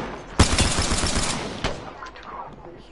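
Rapid video-game gunfire rattles out in a sharp burst of shots lasting about a second. A single shot follows, then quieter game sounds and a faint voice trail off.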